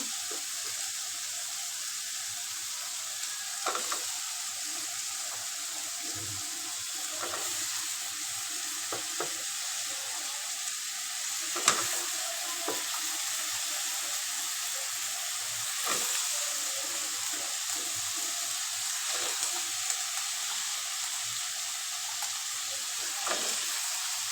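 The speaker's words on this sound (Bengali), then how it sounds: "একটু মাছ রান্না করার জন্য যে মশলাটা কষাই নিচ্ছি" Spice paste for a fish curry with eggplant and potato frying in a pan: a steady, loud sizzle runs throughout, broken by occasional scraping knocks from stirring, with no speech.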